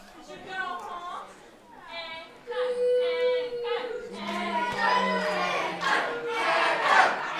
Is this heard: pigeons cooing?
no